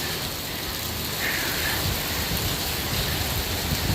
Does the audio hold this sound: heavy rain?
yes